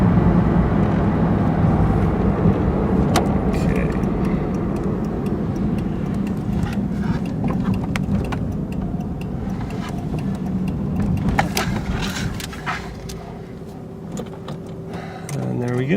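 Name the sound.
Mazda RX-7 car driving, engine running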